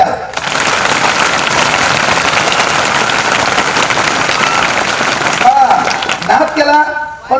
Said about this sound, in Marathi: चला एकदा तुमच्या टाळ्या द्या.